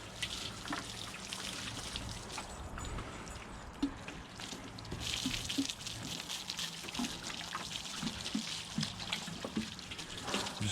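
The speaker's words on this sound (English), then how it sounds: "It's only water." Water is sprayed and trickles over items being wetted down before washing, a soft continuous splashing and dribbling with scattered drips, fairly close and without talk.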